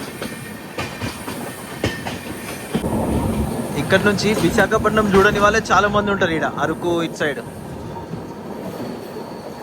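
Kirandul Passenger train 58501, running from Visakhapatnam to Araku, rolls toward a bridge with a steady rumble and wheel clatter heard throughout, beneath someone talking close by.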